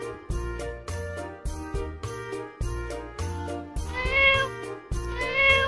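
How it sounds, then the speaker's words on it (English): A cat meows repeatedly over a bouncy children's phonics song, with the meows rising clearly above the music, especially the longer calls near the end. "C for cat."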